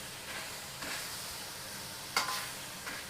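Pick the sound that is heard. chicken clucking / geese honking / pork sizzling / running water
pork sizzling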